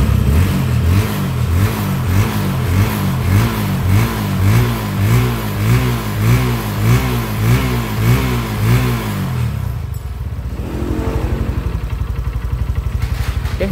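A Honda Verza motorcycle engine, freshly fitted with a new piston but still smoking and running somewhat rough, revs loudly in repeated rising-and-falling bursts, then drops back to a steady, pulsing idle near the end.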